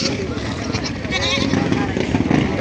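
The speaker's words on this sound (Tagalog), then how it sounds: "Daming kambing ngayon, no?" Goats bleating at a livestock market in Padre Garcia, Batangas, several overlapping bleats over constant crowd chatter and a passing motorcycle.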